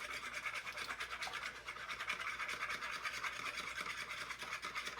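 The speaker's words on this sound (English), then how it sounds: "right now I'm just going to whisk up the eggs" Eggs being whisked in a bowl in a home kitchen, a steady rapid scraping and tapping rhythm at low to moderate level for the whole stretch, with no voices.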